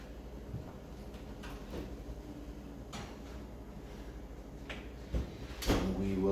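A kitchen oven door is opened and then shut with a couple of firm thuds and a short metallic clatter near the end, after a quiet stretch of room tone.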